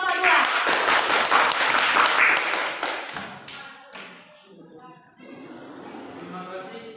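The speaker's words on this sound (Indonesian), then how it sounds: "beri tepuk tangan untuk kelompok" A classroom of students clapping for a student group after a presentation, with loud, dense clapping for about three seconds that fades into speech and light room noise.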